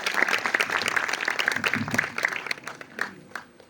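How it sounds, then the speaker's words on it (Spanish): An audience at a film screening Q&A claps in a lively burst of distinct hand claps that thins out toward the end. "aplausos a toda la banda"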